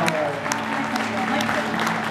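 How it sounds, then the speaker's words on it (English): Audience applause at a Hawaiian music performance, a brief burst of clapping heard up close beneath a voice talking. "Another round of applause."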